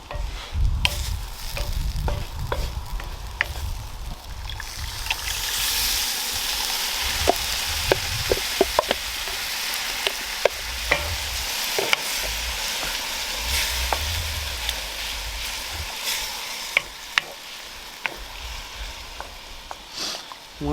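Whole canned tomatoes are crushed by hand into a sizzling pan on a grill, a steady close hiss of frying with wet squelches and scattered sharp clicks and taps throughout.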